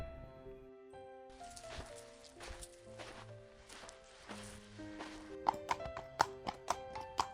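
Horse hooves clip-clopping as a king rides off to hunt, starting faint and growing into distinct rhythmic hoofbeats over background music in a narrated Hindi moral story.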